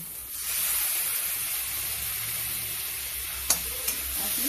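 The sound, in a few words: tomatoes frying with garlic paste and cumin, being stirred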